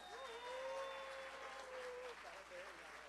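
Audience applause at the Prêmio Luiz Gonzaga award ceremony of a radio festival, sustained clapping heard at a distance with a voice and cheering rising over it.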